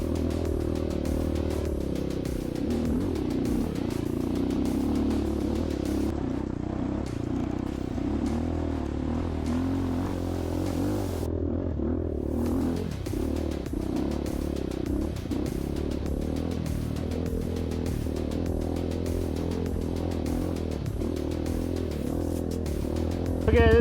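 An Orion 250HO dirt bike climbs rocky terrain, its engine droning steadily and loud throughout with clattering and scraping from the ground, while a brief drop in the noise near the middle marks a shift in throttle.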